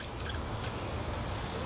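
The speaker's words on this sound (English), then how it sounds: "I'll also give the tree a good water from above" Water poured from above over a potted weeping willow bonsai, soaking its soil: a steady, close, continuous splashing trickle with no voices.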